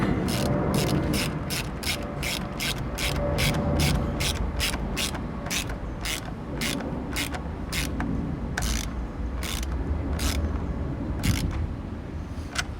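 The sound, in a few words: ratchet tightening an intake on a 2008 Hyundai Tiburon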